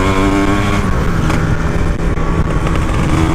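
A Yamaha RX King motorcycle fitted with a Ninja 150 engine runs loud and close, its steady, throaty engine roar holding for the whole stretch with slight swells in revs.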